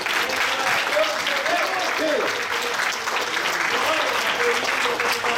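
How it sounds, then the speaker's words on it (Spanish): A church congregation claps in strong, sustained applause, a dense wash of hands with a few voices calling out beneath it. "Den un aplauso fuerte al Señor."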